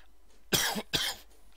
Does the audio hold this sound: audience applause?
no